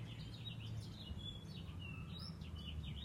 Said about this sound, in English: this bird.